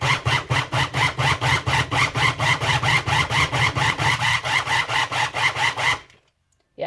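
A food processor pulses in a quick, even rhythm of about two dozen loud grinding bursts as it chops cauliflower into rice, then stops abruptly into silence.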